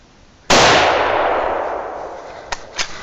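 A single loud rifle gunshot fired at a buck deer during a hunt, a sharp crack with a long rolling echo fading across open country, followed by two faint distant knocks.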